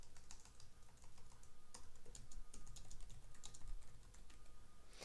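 Steady, close keystrokes on a computer keyboard while search keywords are entered into an SEO tool, a continuous run of quick clicks with brief pauses and no talking.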